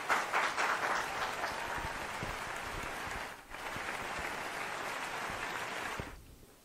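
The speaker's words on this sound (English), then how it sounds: "please welcome him with a huge round of applause" A large audience applauds to welcome a speaker at a seminar, a dense, steady wash of clapping that holds loud for about six seconds, dips briefly near the middle and fades out at the end.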